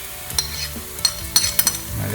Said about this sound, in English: Mix that around, give it a little stir.